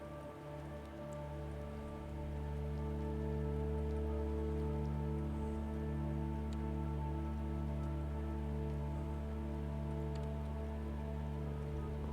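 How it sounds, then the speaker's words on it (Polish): Steady rain in the video game Stray falls on a hard surface, a constant soft patter with occasional louder drips, continuing evenly throughout. "Dźwięk deszczu."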